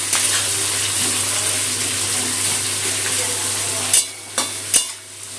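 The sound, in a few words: onions frying in oil in a pan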